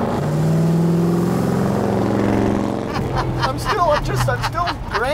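A Studebaker restomod's engine drones steadily, its pitch rising as the car accelerates, then gives way to people talking over the running engine.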